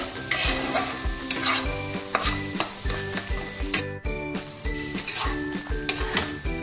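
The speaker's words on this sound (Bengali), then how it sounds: "এইভাবে এটা কষিয়ে নিতে হবে" Banana flower ghonto being stir-fried in a pan, the spatula scraping and stirring in steady strokes over a continuous close sizzle, with occasional pot clatter.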